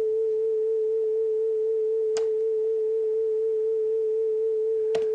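A steady synthesized sine tone with a gentle, regular vibrato wobble, produced in Reaper to imitate a theremin, sounds continuously and alone, broken only by two brief clicks.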